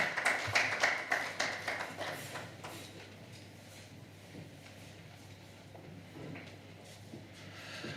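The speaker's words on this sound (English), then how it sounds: "I honestly think that they deserve a better round of applause than that" Audience applause at a national dialogue event in Uganda, a patter of many hands that starts fairly strong and quickly thins to faint scattered claps.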